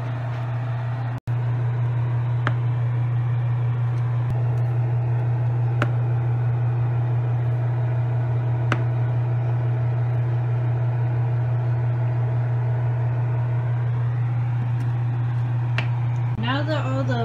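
A loud, steady blender motor hum drones throughout while mixing a boba drink, ending with a short shift in pitch near the close.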